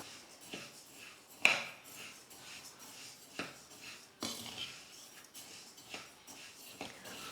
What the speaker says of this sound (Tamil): மீடியம் ஃப்ளேமில் இல்லை லோ ஃப்ளேமில் வச்சுக்கிட்டே ஒரு 3-4 நிமிஷத்துக்கு நல்லா நம்ம அரிசி பருப்பை வறுத்துக்கலாம்.